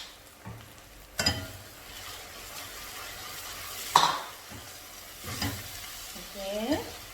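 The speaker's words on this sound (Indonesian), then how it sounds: "Masukin, terus kita tumis sebentar aja." Curry ingredients for Malaysian beef curry stir-fried in a pan: a steady sizzle broken by sharp scrapes and clatters of the spatula against the pan, with a louder stirring burst near the end.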